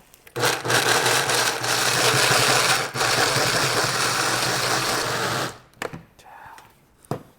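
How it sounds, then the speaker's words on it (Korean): A blender purées boiled green peas into a smooth sauce, whirring loudly and steadily for about five seconds before cutting off, followed by a few faint clicks and knocks. "제가 블렌더에 넣고 한번 갈아 보겠습니다"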